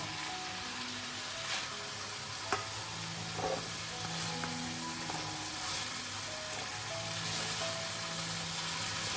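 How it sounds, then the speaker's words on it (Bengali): Mixed vegetables fry in a pan for a home-style veg dish, giving a faint, steady hiss of sizzling oil with a few soft clicks. "এদিকে সবজিটা আমাদের খুব ভালো করে ভাজা হয়ে গেছে"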